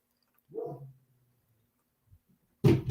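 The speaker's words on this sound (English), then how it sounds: "Why is he barking?" A dog barks once or twice, close and fairly loud, followed by a quiet pause and then a sudden burst of broad noise.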